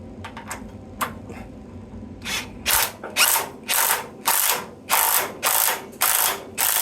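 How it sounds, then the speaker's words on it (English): An impact wrench drives a water heater anode rod in an impact socket, first a few faint clicks, then about eight loud, evenly spaced rattling bursts of hammering, close up with no talking. "So when I use the impact wrench, I didn't try to make it all the way tight"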